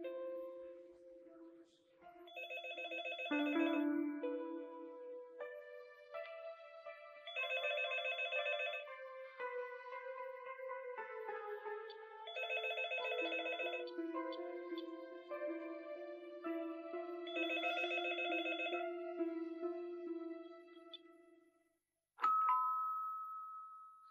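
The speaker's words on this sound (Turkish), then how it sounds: "Telefon uzun uzun çaldı." A telephone rings on and on in a home, a long, repeated electronic ringing pattern in regular bursts, fairly faint and alone, ending abruptly as the ringing stops.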